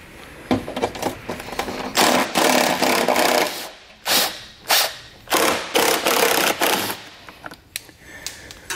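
Ratchet with a 10mm socket working bolts loose on a 2014 BMW X1 during a trailer hitch install, giving close, rapid clicking bursts in repeated strokes with short gaps between them.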